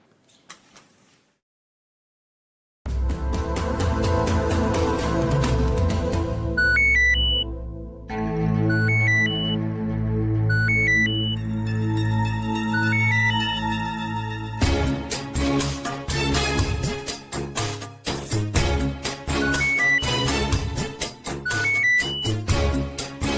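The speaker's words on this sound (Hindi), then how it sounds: "फोन नहीं उठा रही पागल।" A melodic phone ringtone plays on and on without being answered, loud and close, its tune repeating with brief pauses.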